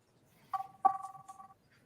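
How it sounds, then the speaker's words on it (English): A telephone rings with two short electronic trills, the second one longer, heard close and alone in a quiet room. "Is that a phone call? We have a phone call"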